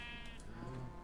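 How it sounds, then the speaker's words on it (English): A sheep in the video game Minecraft gives one short, quiet bleat over a low game background. "Let's breed these sheep again, because don't want to lose my sheep."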